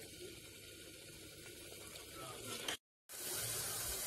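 Water poured into a pan of frying chicken masala for a home-style chicken curry, giving a steady broadband sizzle and hiss that drops out briefly before surging back louder.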